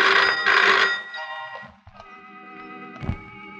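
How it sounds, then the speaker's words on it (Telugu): A telephone rings loudly with a bright electronic trill in two close bursts, then fades into quieter tonal ringing with a brief thump near the end; no talking. "సార్, మీకు ఫోన్."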